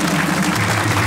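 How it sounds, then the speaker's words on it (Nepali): A studio audience at a Nepali comedy show breaks into brief, continuous applause, a loud wash of many hands clapping at once. "हेर्नको लागि पहिले ताली बजाउनु"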